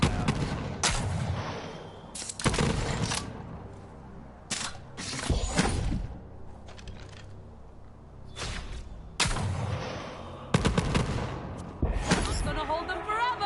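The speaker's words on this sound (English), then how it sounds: "I love the rocket launchers now." A rocket launcher fires in the shooter game Borderlands 3: about seven loud, sharp blasts at irregular intervals, each trailing off into a rumbling decay, with voices and game sounds underneath between shots.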